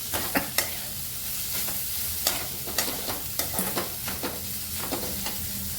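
Cabbage and capsicum stir-fried in hot oil for egg fried rice: a steady crackling sizzle with repeated sharp spatula scrapes and taps against the pan, close and moderately loud.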